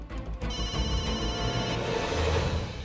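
A telephone rings with a continuous electronic trill, loud and close, repeating without pause over a low background hum.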